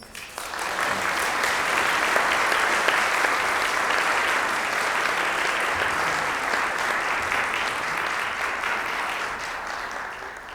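A lecture audience gives sustained, steady applause to welcome the professor onto the stage, a dense wash of clapping at a constant loudness for about ten seconds with no talking.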